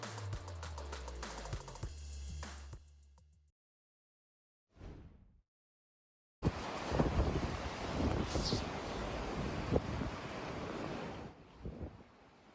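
Intense wind gusts hit parts of Alaska, heard as a loud, roaring, buffeting rush of wind noise that follows a brief musical sting and a pause of silence.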